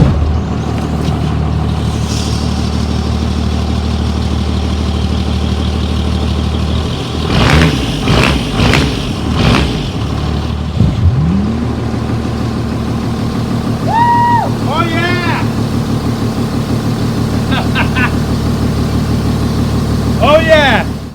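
Cummins diesel engine powering a jet boat, a steady low rumble running throughout with a brief louder surge midway and people talking and calling out over it.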